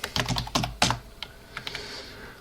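Keystrokes on a computer keyboard while entering a command at a TempleOS command line: a quick burst of close, crisp clacks, then a pause and a few scattered taps fading toward the end.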